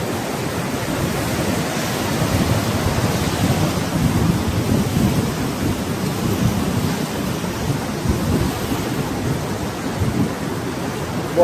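Rain falls over the swollen Mahanadi river, blending into a dense, continuous hiss and low rumble of water that stays loud and even throughout, with no speech.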